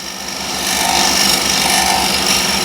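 A freshly sharpened scraper working across wood and throwing off shavings, a loud, close, continuous rasping scrape that swells and holds steady, with no talking.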